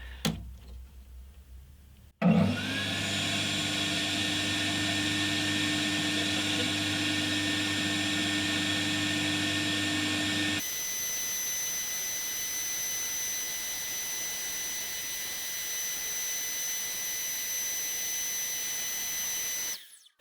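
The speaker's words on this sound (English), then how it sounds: "all we've got to do is carefully, very slowly tweak this up and let it sand itself" A homemade drum sander works on wood with a motor that spins up abruptly into a loud, steady whine full of tonal hum. Partway through, the tone shifts to a thinner, higher pitch before the machine stops.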